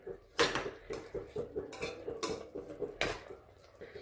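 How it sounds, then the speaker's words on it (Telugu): Cooked carrot pieces for a carrot and coconut halwa are mashed with a spoon in a pot, producing irregular metallic clinks and soft knocks, a few sharper taps standing out over quieter scraping. "స్పూన్తో ఇట్లా మెదిపినా మెత్తగా అయిపోతుంది"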